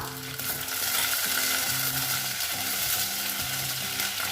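Chopped green chillies for fish molee sizzle in hot oil in a pan, a dense, steady frying hiss close by, with a low mechanical hum running underneath throughout.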